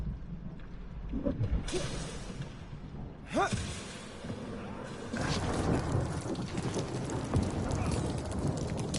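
Thunderstorm in a video game: heavy rain hisses steadily while rolling thunder cracks and rumbles in bursts, loud and close, with a brief vocal murmur.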